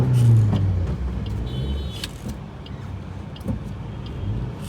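A Maruti Swift car drives with its engine vibrating more than usual, a steady low road rumble with a few brief clicks and rattles in the cabin.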